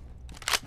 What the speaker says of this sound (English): Grabbing a fresh mag.